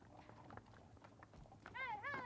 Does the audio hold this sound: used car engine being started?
no